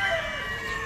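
A rooster crows in a short burst among other fowl at a Filipino gamecock farm, the call sustained and fairly close against a steady background.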